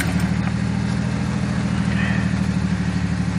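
A 2003 Pontiac Montana minivan's worn engine, misfiring on five cylinders and overdue for an oil change, idles with a steady low throbbing hum and slightly uneven pulse, close and continuous.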